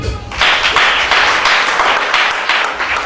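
A church congregation breaks into loud, sustained applause, many hands clapping together in a dense, steady burst that carries on for about three seconds.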